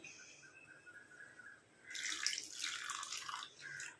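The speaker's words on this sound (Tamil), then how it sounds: "அரை டம்ளர் அளவுக்கு நார்மல் வாட்டர் வந்து இதில் சேர்த்துக்கிறேன்" Water is poured into a homemade hair dye mixture, a quiet splashing and trickling pour that starts about halfway through and runs close and clear, with faint drips before it.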